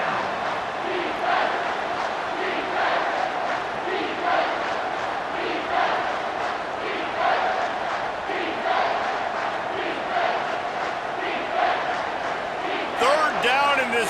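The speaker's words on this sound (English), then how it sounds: "This crowd will blow out a vocal cord to help this defense." Loud stadium crowd roaring and cheering in the EA Sports College Football 25 video game, a continuous swelling wall of voices with rhythmic surges, under a commentator's voice.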